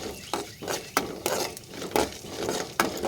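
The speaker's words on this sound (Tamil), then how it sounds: "இதோட கடலை பருப்பை போட்டுக்கலாம். அடுப்பை கொஞ்சம் ஃப்ளேமில் வச்சுட்டு அதை நல்லா வறுத்துட்டு" Chana dal roasts in a pan, stirred with a utensil that scrapes and knocks in quick irregular strokes over a soft sizzle, close by and without voices.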